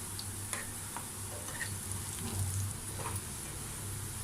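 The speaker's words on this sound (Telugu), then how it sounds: "ఇలా చక్కగా అన్నీ వేసుకొని డీప్ ఫ్రై చేసుకోవాలి" Spinach pakoda deep frying in oil: a dense, continuous bubbling hiss, close and even, with faint ticks and small spoon touches scattered through and no voices.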